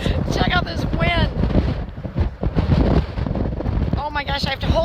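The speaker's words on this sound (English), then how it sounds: "Check out this wind." Strong wind buffets a handheld phone microphone outdoors in Michigan, a continuous loud rumbling roar that runs through the whole stretch while a person talks over it.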